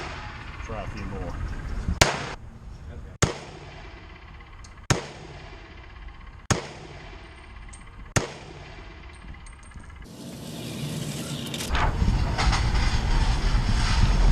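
Five sharp pistol shots from a Glock G31 fitted with a red dot sight, fired one at a time at a range with gaps of one to two seconds between them, followed by a louder burst of rustling and wind noise.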